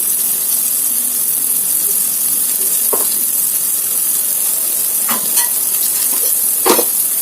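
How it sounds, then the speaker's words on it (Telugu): Coconut oil sizzles in a pan for egg fry, a constant bright frying hiss broken by a few soft clicks and scrapes of stirring, close and steady with no talking. "కొంచెం కోకోనట్ ఆయిల్ అయితే ఇలా వేసేసుకుందాం."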